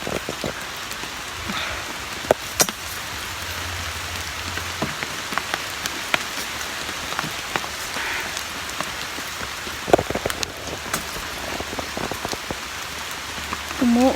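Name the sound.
rain falling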